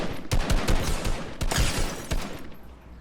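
Rapid bursts of gunfire from the Fortnite video game, loud and close, fire in a fast rattling volley that breaks into separate shots and fades near the end.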